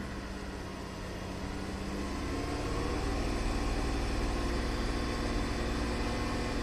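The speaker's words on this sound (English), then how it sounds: "So I'm going to rev it up a little bit." A GM V6 engine running rich on bank 2 at idle hums steadily, then its drone swells modestly and holds at a slightly higher, fuller level as it is revved gently.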